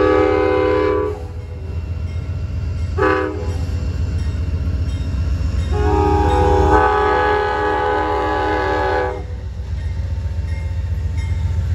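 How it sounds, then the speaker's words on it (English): Amtrak 94 westbound passenger train passing in Norfolk, its horn sounding in several long blasts over a heavy, loud rumble of the moving train. "Amtrak 94, westbound here in Norfolk."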